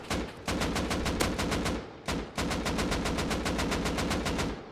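An AK rifle fires in the video game Rust in two long, rapid automatic bursts, loud and close, each shot crisply separated with a short pause between the bursts.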